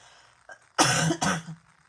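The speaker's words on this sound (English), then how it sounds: "I feel like I have to cough." A single close, harsh cough in two quick bursts, preceded by a small throat sound, then quiet.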